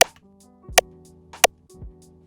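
Synthesized snare drum transient layer built in Ableton Live, heard as three sharp, bright clicks spaced roughly evenly, each with a short tonal body ringing under it, alone and fairly quiet.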